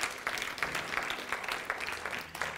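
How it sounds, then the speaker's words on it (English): A church congregation claps in praise, a moderate round of steady applause lasting a couple of seconds with individual claps audible. "Let's give the Lord a clap if you prayed that prayer."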